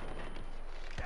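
Gunfire from enemies in the Far Cry 4 video game, a few quick shots, one loud report near the end over constant background game noise.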